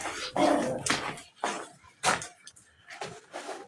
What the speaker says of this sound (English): You hear my dog, she's pissed.